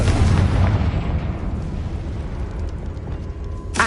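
A Confringo blasting spell erupts in a Harry Potter video game as a heavy, booming explosion, loud at first and rumbling away over a few seconds before a sharp crack near the end.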